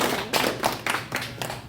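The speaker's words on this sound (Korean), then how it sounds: "자, 우리 저 교수님 아까 박수 다시 한번 박수." An audience at a security lecture claps for the professor, a dense rhythmic patter of many hands beating roughly four times a second, fairly near, with no talking over it.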